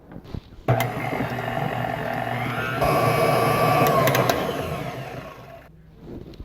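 An electric mixer beats a cup of butter for a salted caramel apple cake, a loud steady whirring motor that starts abruptly, shifts pitch partway through and then cuts off, with no talking.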